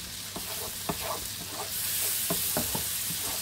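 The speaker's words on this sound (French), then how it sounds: "on va faire bien cuire les oignons et l'ail" Onions and garlic frying in a pan for moussaka, a constant close sizzle that grows slightly louder midway, punctuated by several spoon taps and scrapes against the pan.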